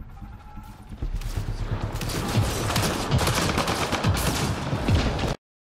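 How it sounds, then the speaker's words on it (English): Enemy gunfire during a Mass Effect Andromeda firefight, dense overlapping shots and bursts building after a quieter opening, continuous and moderately loud until it stops abruptly. "Enemies are firing!"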